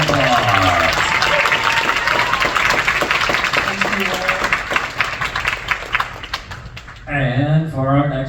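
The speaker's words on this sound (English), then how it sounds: "Thank you so much for giving us a big round of applause." A convention audience at a furry event's closing ceremonies gives a loud round of applause, with crowd clapping and some cheering under a voice speaking over the sound system. The clapping fades near the end as speech takes over.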